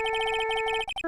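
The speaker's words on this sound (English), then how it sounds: "This is what cell phone ringtones sounded like back in the 2000s" A 2000s-style cell phone ringtone in the video game Ace Attorney 2: a loud, close electronic trill of rapid repeating beeping tones in quick pulses, ending in a few separate chirps.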